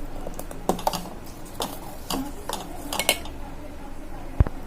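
Devgad Alphonso mango pulp thickening in a pan over a low flame for mango leather, with a spoon scraping and clinking against the pan in irregular bursts, close and moderately loud, with no talking.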